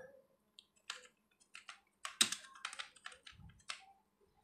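Keys clatter on a computer keyboard as a name is entered into an online registration form for a quiz competition, a quiet run of separate clicks and short bursts, close and alone with no voice.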